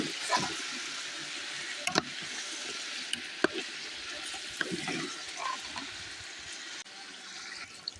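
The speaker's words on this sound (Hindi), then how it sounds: "इसको हम थोड़ा सा फ्राई करेंगे" Chicken pieces fry in a pan for a home-style Pakistani chicken dish, giving a steady broadband sizzle with a few sharp pops and clinks of a utensil, close and moderately loud with no talking.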